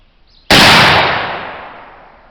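A single loud black powder rifle shot fired with Swiss-style powder cracks sharply and close, then its boom decays slowly over about two seconds with no voices.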